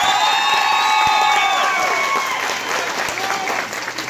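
A nightclub crowd at a Halloween party applauds and cheers for Cantinflas, loud dense clapping with whoops and shouts, while a sustained musical tone and a voice ring over the start and fade.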